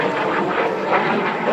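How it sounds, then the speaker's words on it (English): A steady, loud drone of an aerobatic airplane's engine fills the air at an outdoor airshow in Airdrie, Alberta, as the plane rolls upright out of a 45-degree down line, sustained without pause for the whole moment. "Choosing that 45-degree down line, rolls the airplane upright."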